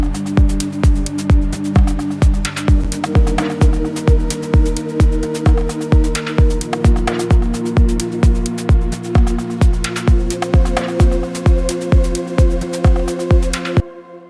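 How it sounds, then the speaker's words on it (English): Power chords, triads stripped of their thirds, struck in a steady even rhythm of sharp repeated hits, loud and close throughout before stopping abruptly near the end, with no talking. "we've turned triads into so-called power chords"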